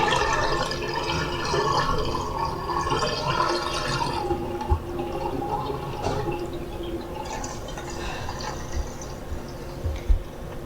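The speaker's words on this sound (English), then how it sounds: "I like to leave the items in the sink while I let the water drain out" Water drains from a sink holding soaked wool diaper covers and pads after a lanolin bath, a steady gurgling trickle with occasional drips close by, no talk.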